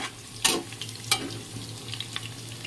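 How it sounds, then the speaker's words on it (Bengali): Tomato added to onions and potatoes frying in a pan, a soft sizzle with two sharp clinks of a utensil against the pan and light stirring. "তো এটা টমেটোটা দিয়ে দেবো।"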